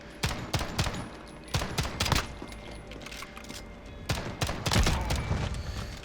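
Pistol shots fired in a video game played on a controller crack out in rapid, irregular bursts, loud and close, with brief pauses between volleys.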